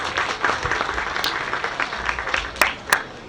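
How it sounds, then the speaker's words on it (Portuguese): Audience applause after a talk on cannabis and health, with a continuous wash of clapping from a seated crowd and a few sharper, louder claps standing out near the end. "Uma salva de palmas, por favor."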